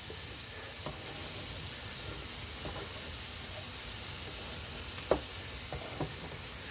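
Hamburger patties frying on a single-heat griddle give a steady, moderately quiet sizzle with faint clicks and a few brief clatters, and no one speaks.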